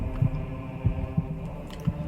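Heartbeat heard with the cat potion active in The Witcher 2, four slow dull thumps at a steady pace over a low droning hum.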